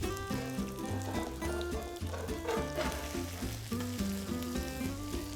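Italian potato pancakes fry in a pan with a steady, close, dense sizzle and crackle throughout, with a bit of stirring or shifting in the oil.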